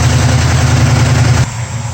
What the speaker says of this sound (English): So now it's come off the fast idle.